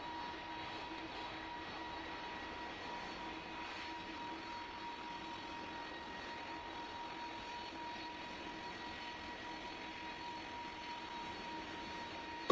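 A Boeing 747 airliner approaches to land at Greater Rockford Airport, a steady faint engine drone with a constant hum that holds evenly throughout.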